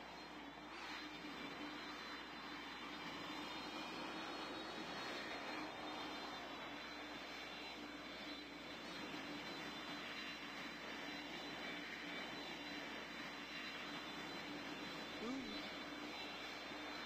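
A video game airplane engine drones steadily and faintly throughout, a continuous engine hum with background hiss and no distinct changes.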